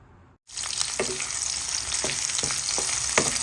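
Garlic, onion and ginger hit a hot pan and break into a loud, sudden sizzle that holds steady, with a few scraping stirs of a utensil along the way.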